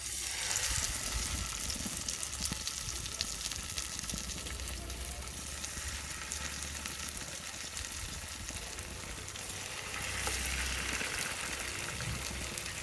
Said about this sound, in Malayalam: ഇനി നേരത്തെ നമ്മൾ മസാല ഒഴിച്ച് വെച്ച കോഴി നമുക്ക് ഇതിനകത്തേക്ക് ഇടാം.